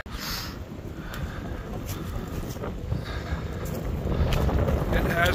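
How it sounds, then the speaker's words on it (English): Strong, relentless wind buffets the microphone on a cold day along the Appalachian Trail near Clingman's Dome, a loud continuous roar with low-end rumble that builds stronger toward the end. "Wind is relentless."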